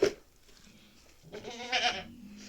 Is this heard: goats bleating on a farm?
yes